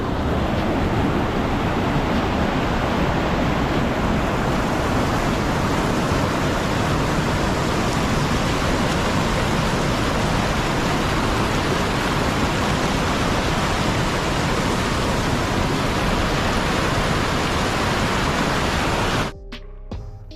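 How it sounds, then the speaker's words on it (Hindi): A waterfall pours beside a dam near Kasol in the Himalayan hills, a loud, steady roar of rushing water that fills the whole scene and stays constant until it cuts off abruptly near the end. "वो सामने डैम और वाटरफॉल दिखाई दे रहा है।"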